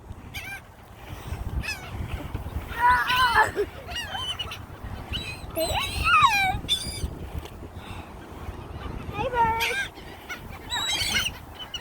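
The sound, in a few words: birds at a bird park in New Orleans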